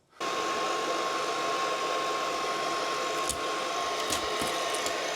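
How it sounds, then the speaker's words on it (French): Hand-held hair dryer blowing steadily, a loud continuous whoosh with a faint whine that starts abruptly and keeps running, with brief handling knocks near the end. "Et là, je prends le sèche-cheveux."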